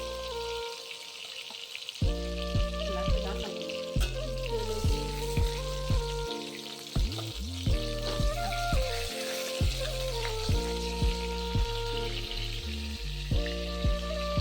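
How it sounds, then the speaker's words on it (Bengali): Chicken leg pieces fry in hot oil, a loud continuous sizzle and crackle under a bright melodic tune that plays throughout, with no voices. "লেগ পিসগুলোকে খুব ভালোভাবে কিন্তু ভেজে নিয়েছি"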